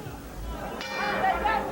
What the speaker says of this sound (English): There's the bell, bringing them together for the 3rd and final round of this 3-rounder.